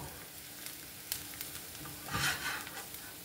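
Onion and alamang shrimp paste sautéing in a hot pan give a steady close sizzle, swelling into a louder crackling burst partway through, with no voices.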